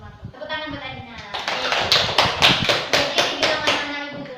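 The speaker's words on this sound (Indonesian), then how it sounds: "Tepuk tangan buat Adina" A classroom of schoolchildren claps for a student named Adina, with a few claps at first building into a rhythmic, roughly unison beat of about two claps per second, while young voices chatter and chant underneath.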